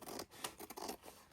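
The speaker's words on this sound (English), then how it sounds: "I feel like these scissors have seen better days." Worn, sticky scissors cut through paper in a short run of close, quiet rasping snips that rise and fall in quick succession, with no voice.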